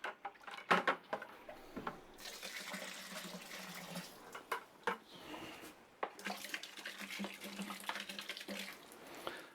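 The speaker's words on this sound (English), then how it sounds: "that 2-liter bottle of water we just used to help rinse the bucket and pour in there" Water from a 2-liter bottle splashes and pours in bursts into a bucket while rinsing it during cherry brandy making, with clattering handling noises between pours, close by and fairly loud.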